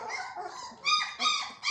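A Boerboel puppy left stuck outside whimpers and whines in a few short, high-pitched bursts, close and fairly soft, with no one talking.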